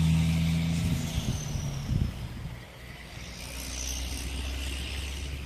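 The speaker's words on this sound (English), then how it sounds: "Big noisy truck." A big, noisy truck rolls past outdoors, its loud low engine rumble strongest in the first couple of seconds, then easing into a steady background drone with wind.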